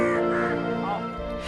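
A crow gives harsh, repeated caws, close and fairly loud, over a steady voice talking.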